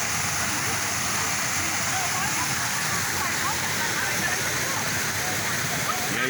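Waterfall at Sítio Uirapuru, Recanto das Cachoeiras, in Baturité, Ceará, roaring as a constant, loud, even wash of falling and splashing water with no breaks.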